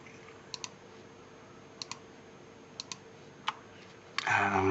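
Sparse mouse clicks at a computer running Lightwave 3D, small paired taps spaced about a second apart over a quiet room hum, ending in a brief louder burst of noise.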